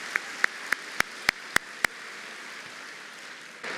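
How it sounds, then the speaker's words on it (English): An audience applauds at a Dallas school district State of the District event, a steady, even wash of clapping heard from a distance, punctuated by a series of sharp, regularly spaced ticks early on. "let's give them all another round of applause."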